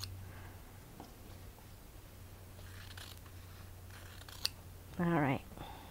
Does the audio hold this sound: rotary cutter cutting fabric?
yes